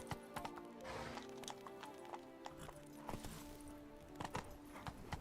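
Roach, Geralt's horse in The Witcher 3, clip-clops along with steady hoofbeats and a brief whinny, backed by low droning game music and ambient sound.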